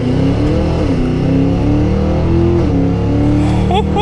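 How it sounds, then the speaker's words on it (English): A 2023 Cadillac Escalade V 4WD SUV accelerates hard with a loud, close engine roar that climbs steadily in pitch, shifting up once near the end and keeping its heavy rumble throughout. "we are just going to give this a pretty good acceleration"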